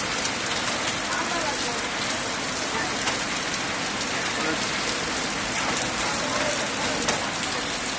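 Heavy rain pours down after hot weather, a dense, unbroken hiss of drops on surfaces, loud and close throughout.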